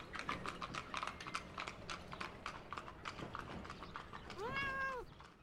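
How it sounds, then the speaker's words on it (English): A cat meows once with a rising-then-falling tonal cry from a Dwarf Fortress game, following busy rhythmic clopping and clicking sounds; no speech. "Oh my god, that cat noise."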